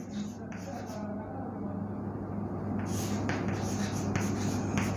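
Chalk or marker writing on a classroom board, scratchy strokes growing denser toward the end, heard under a teacher's voice and a steady hum.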